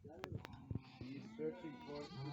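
Chios sheep on a small farm bleat close by in several overlapping calls, a hungry flock crying out in quick succession.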